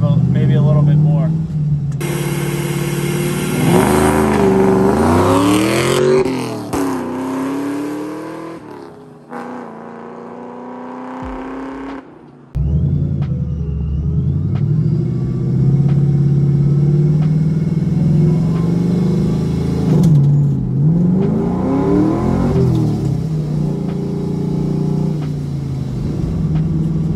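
A 500HP Ford Mustang engine rumbles loud and close during street launch practice, rising through repeated revs with sharp cuts between bursts. Someone talks over the engine noise.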